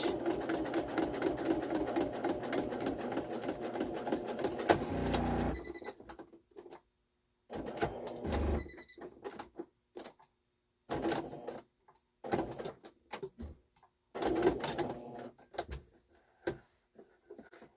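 A sewing machine stitching a pinch-pleat curtain heading runs in a steady fast whir for several seconds, then stops and restarts in short bursts with quiet gaps between.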